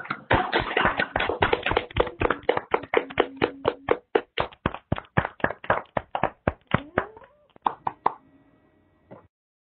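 A quick, uneven run of hand claps from a few people over an online conference call for a speaker, tapering off and fading out near the end.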